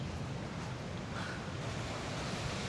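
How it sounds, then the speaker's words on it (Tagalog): Ocean waves at Patar White Sand Beach in Bolinao, Pangasinan, a steady broadband wash of surf rolling in without pause, fairly loud and unbroken, with no voices. "Ay grabe yung alon guys."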